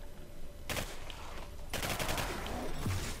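Gunfire in the video game Singularity: two bursts of rapid automatic shots, the second longer, loud and close against a low game background hum.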